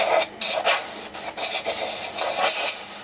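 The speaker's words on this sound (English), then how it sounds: "Just blow the dust out of this." Compressed air blasting dust out of a wooden hollow form turned from a multi-branch log on a lathe, a steady broadband hissing rush with brief gaps as the bursts stop and start, close and fairly loud.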